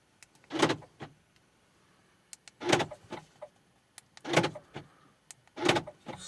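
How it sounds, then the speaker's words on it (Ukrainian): Four short mechanical whirring clunks of an Opel Astra H's central locking actuating, evenly spaced, with faint clicks between them. "Перевіряємо центральный замок."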